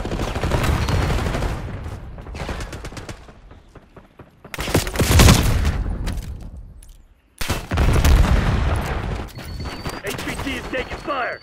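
Rapid gunfire erupts in Call of Duty Black Ops 6 multiplayer, with dense automatic bursts, loud booms and scattered single shots in close succession, under game voice chatter.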